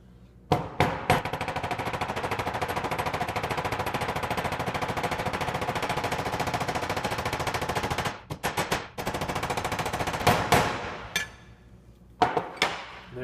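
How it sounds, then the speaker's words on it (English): A ball peen hammer pounds a roofing nail into a rivet on an anvil or steel block, making a rapid, loud, continuous stream of close metallic strikes with a few short pauses and separate single blows. "The round edge of the ball peen hammer makes it quite easy to get that head down."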